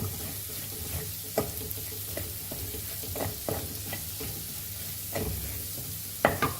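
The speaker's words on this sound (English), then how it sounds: "Fry this very nicely till it changes the color" Goan pork sorpotel ingredients fry in a pan with a steady sizzle, broken by several distinct stirring scrapes and clatters at irregular intervals, close and moderately loud.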